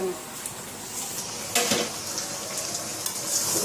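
Meat frying in a pan is stirred, giving a continuous sizzle broken by scraping and clattering of a utensil against the pan, with a voice in the background.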